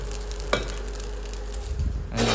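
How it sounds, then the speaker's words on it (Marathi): Tomato soup cooking in a home kitchen, with a soft sizzle and a couple of brief stirring scrapes against the pot, close by and with no talking. "इकडं हा टमाट्याचा सूप बनवत आहे"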